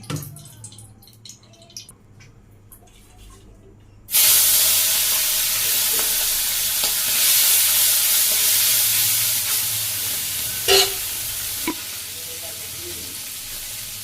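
Vegetables drop into hot oil in a pan and burst into a loud, sustained sizzle after a few seconds of quieter background, with occasional stirring clatter and crackles continuing up close.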